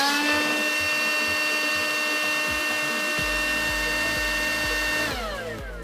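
Makita battery leaf blower running close by with a steady, piercing electric whine and airy rush. The pitch holds level, then drops near the end as the motor spins down.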